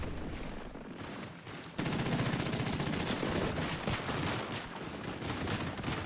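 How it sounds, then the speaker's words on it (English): Minigun fire in a Fortnite trio cash cup match, a dense, continuous rattling burst of rapid shots that grows louder partway through and keeps going steadily to the end, with no voices. "And they're just applying pressure with a minigun."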